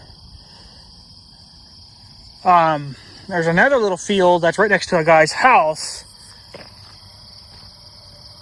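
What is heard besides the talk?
crickets chirping at night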